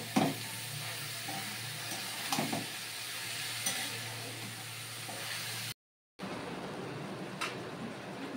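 Bottle gourd frying in a pan for a shukto with yellow and black mustard seeds, giving a steady close sizzle and hiss with a few stirring scrapes, broken by a brief silent gap before the sizzling resumes.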